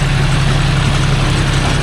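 A John Deere 5050D tractor engine runs loud and close in a steady, even drone with a deep low rumble, held at constant revs for the short stretch.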